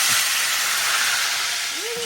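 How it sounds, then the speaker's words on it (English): Hot bacon grease hisses and sizzles steadily in a pan while a wilted lettuce salad dressing is made, with a continuous bright crackle and no voices. "I want to make sure our bacon grease is good and hot. And this might splatter."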